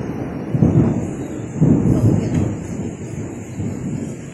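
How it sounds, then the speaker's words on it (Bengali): Thunder rumbles through a rainstorm over a village in Bangladesh, coming as several deep, rolling peaks in succession over a steady wash of rain and wind. "প্রচুর বজ্রপাত হইতেছে।"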